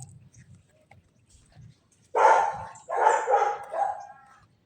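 A dog barks in a few loud, close bursts outdoors, after a stretch of near silence with faint low rumble.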